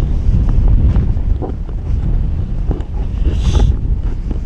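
Strong wind buffets the microphone on an exposed Iron Age hill fort, a loud continuous roar with gusting rumble that never lets up, heard alone without talk.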